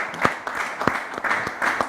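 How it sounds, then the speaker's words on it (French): Studio audience applause for the co-presenter of a Congolese talk show, heard as a short run of evenly spaced, fairly close claps over a soft background of clapping. "Est-ce qu'on peut l'applaudir quand même, hein?"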